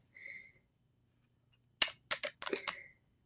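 Scissors snip into a glove filled with slime, beads, glitter, Orbeez and glue, giving a quick cluster of sharp, close cuts after a brief faint sound and silence.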